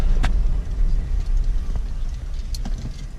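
Jeep Wrangler JK fitted with a throttle controller drives around a block, a steady low engine rumble and road noise heard from inside the cabin, with a few faint clicks and knocks.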